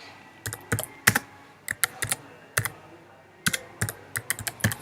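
Keys on a MacBook keyboard are typed in Terminal, giving close, crisp clicks in irregular bursts and short runs with brief pauses between them and no talking.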